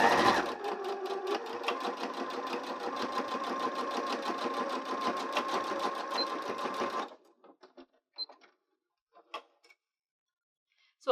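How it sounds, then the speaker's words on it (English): A sewing machine stitches a 1/8 inch seam on a clear face mask, running in a steady close rapid whir for about seven seconds, then stopping, followed by a few faint clicks and handling noises. "I'm going to be sewing that with a 1/8 inch seam allowance."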